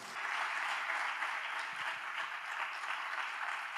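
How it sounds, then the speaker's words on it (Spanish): Continuous applause from a church congregation welcoming a speaker, a steady wash of many hands clapping, heard from a distance and fairly soft throughout. "Vamos a recibir a Miguel Iván Benavides Ávila con un fuerte y afectuoso aplauso."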